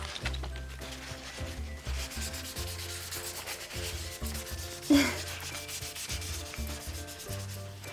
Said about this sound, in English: So we're gonna put the rubbing alcohol on again.